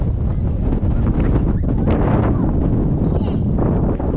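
Gusty wind buffets the microphone at an RC model flying field, a loud, continuous rumbling roar that stays heavy and unbroken throughout.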